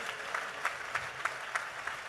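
A congregation at a Christian convention gathering claps together, a dense wash of many hands with a steady pulse of stronger unison claps landing roughly every third of a second, sounding full and close without any voices.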